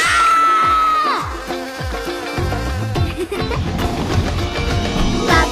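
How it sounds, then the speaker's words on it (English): A cartoon bee buzzes loudly with a gliding, falling drone, followed by busy music-like tones and a rising whoosh near the end. "Oh no! The bee!"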